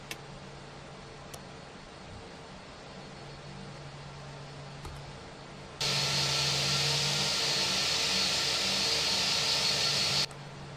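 Aerosoft A320-200 jet engines spool up for takeoff in a flight simulator game: a loud, steady roar starts abruptly over a low background hum, holds for several seconds, then cuts off sharply.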